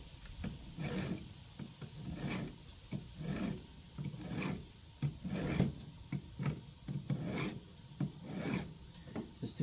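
Hand file rasping across the chain teeth of an 18-volt battery chainsaw, a quiet, rhythmic series of gritty strokes repeating about every second, close up with no talking.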